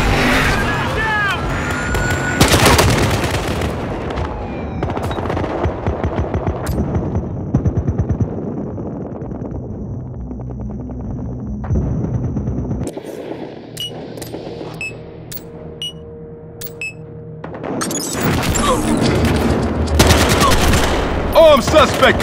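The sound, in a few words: SUV-mounted heavy gun firing in the video game Battlefield Hardline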